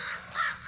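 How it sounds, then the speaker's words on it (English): A raven gives a single loud, harsh, croaking caw outdoors, close and clear, lasting under a second. "I just saw a raven crow."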